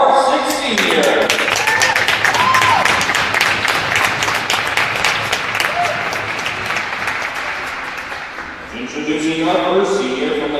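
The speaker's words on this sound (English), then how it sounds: "Please give a round of applause for our 6 seniors" Sustained crowd applause fills a hockey arena as six seniors of the Adrian College men's ACHA Division 2 team are honored, loud and dense throughout before easing near the end, with an announcer's voice over it at the start and finish.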